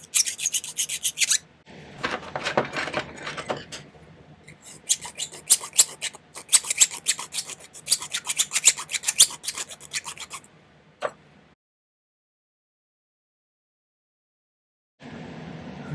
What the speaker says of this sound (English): Sort of smooth that out a little bit with the Dremel